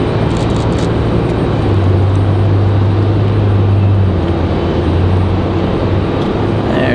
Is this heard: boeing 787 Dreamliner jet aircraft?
yes